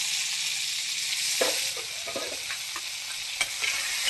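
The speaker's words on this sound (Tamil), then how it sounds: "கருவேப்பிலை, பச்சை மிளகா போட்டுக்கோங்க." Curry leaves and green chillies hit hot oil with popping mustard seeds, giving a loud continuous sizzle with several sharp crackles and spatters scattered over it, close up and with no voices.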